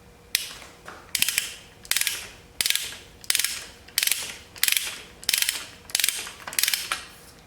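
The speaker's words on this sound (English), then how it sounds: "Maybe I need to use a deep well socket." Ratchet wrench turning a deep well 14 socket during an engine swap on a 1981 Pontiac Trans Am, giving about nine rhythmic bursts of rapid pawl clicking, each separated by a short pause, close and alone.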